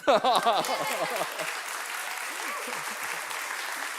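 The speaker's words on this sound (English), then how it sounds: "Applause." Applause from an audience at a solar energy product launch, loud at first and then settling into steady sustained clapping, with a voice briefly audible early on.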